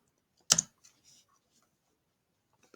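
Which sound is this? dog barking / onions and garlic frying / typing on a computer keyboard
typing on a computer keyboard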